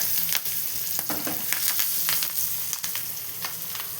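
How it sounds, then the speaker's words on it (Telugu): Green chillies and curry leaves frying in hot tempering oil with asafoetida, a steady close sizzle broken by sharp crackles and pops spread through the whole stretch, with no talking. "అలాగే కరివేపాకు వేసేయాలి."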